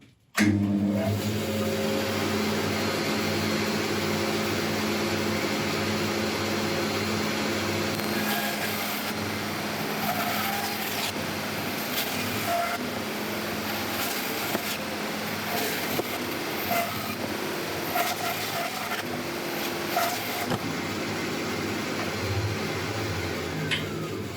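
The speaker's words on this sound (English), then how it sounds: "I shall get this across to the bandsaw, get it cut out" A bandsaw cuts a beech bowl blank, a steady loud machine drone running for the whole stretch with a high whine and rough buzzing texture, brief shifts in pitch as the blade works through the wood, no talking.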